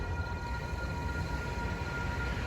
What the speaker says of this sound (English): next train we got Metrolink 608 coming into San Clemente.